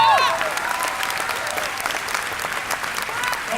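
A crowd at an event with Robert Englund in Argentina bursts into loud, dense applause that carries on steadily throughout, with a brief voice near the start.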